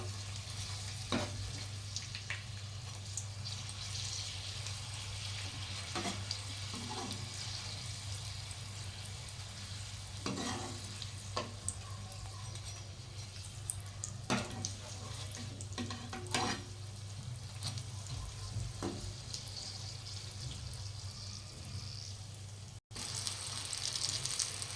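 Stuffed papad rolls fry in oil over a low flame, giving a steady soft sizzle with occasional louder crackles and stirring clinks, alone with no talk, under a constant low hum.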